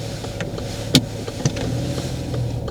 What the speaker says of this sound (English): I'm going to change from gear 1, 2 to 3 quite early and show you what happens.